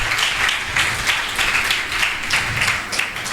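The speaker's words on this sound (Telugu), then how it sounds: "చప్పట్లు కొట్టి దేవుని మహిమపరుద్దాము." Church congregation clapping together in a steady, sustained burst of applause that fills the room, even and continuous without speech over it.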